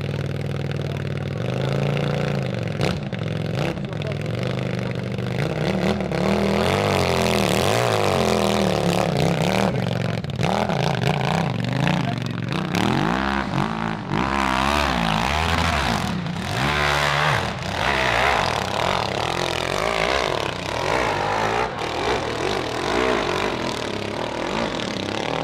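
A 180 hp motocross bike charges up a steep hillside, its engine snarling and revving hard with rising and falling pitch throughout, loud and close, with clattering mechanical noise and no speech.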